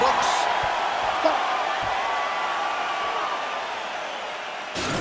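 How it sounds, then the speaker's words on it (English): The arena crowd in the UFC 4 fighting game, at a Paulo Costa versus Khamzat Chimaev bout, cheers loudly and continuously after a round, with a dense roar that stays steady, a few faint thuds underneath, and a louder burst at the end. "the crowd voicing its appreciation after that round"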